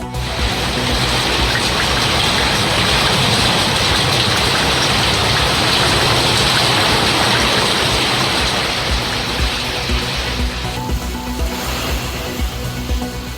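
Rain falls across Chennai in Tamil Nadu in a dense, continuous hiss and wash of drops, loud and close with no voices, easing slightly toward the end.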